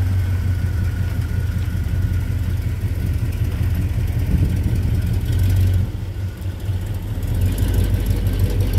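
A 400 small-block Chevy V8 in a 1984 K20 short box pickup idles roughly and steadily, a loud, close, continuous low rumble with a slight dip near the end and no talking.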